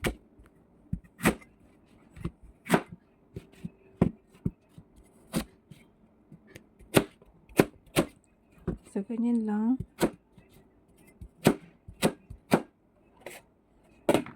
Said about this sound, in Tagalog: Hinihiwa ko siya ng maliit na cubes.